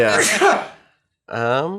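A single sharp, breathy sneeze bursts out nearby, followed after a short pause by a person speaking briefly.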